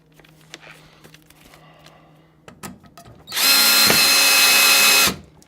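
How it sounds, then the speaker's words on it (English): A cordless power drill drives a screw, giving a loud steady whine for about two seconds after some quiet handling clicks and taps, heard alone and up close. "Let's try a proper drill with American quality control"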